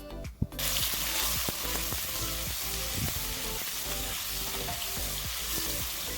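Sliced tomato stirred into hot coconut oil with curry leaves for a roasted-coconut prawn curry, setting off a steady loud sizzle with regular spatula scrapes and taps, close by.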